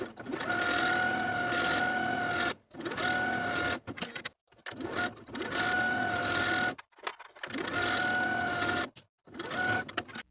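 A sewing machine straight-stitches pockets onto fabric shorts, running in steady whirring bursts of two to three seconds broken by short pauses, close and even in tone.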